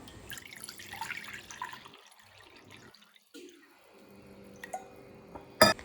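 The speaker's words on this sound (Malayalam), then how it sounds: "ഇനി ഒരു പാത്രത്തിലേക്ക് വെള്ളം ഒഴിച്ചു കൊടുക്കാം." Water is poured into a bowl, a quiet, intermittent trickling and splashing at close range, ending with a sharp clink of the vessel.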